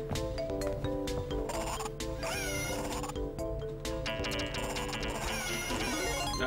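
A cat meows repeatedly in the animal sound shower of a Sega video game, with drawn-out, wavering cries over a loud, busy background of game music, no voices.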